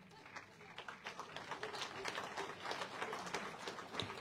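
Scattered applause from the audience at a public meeting in Invercargill opposing Three Waters, moderately close hand claps mixed with murmuring voices and some talk.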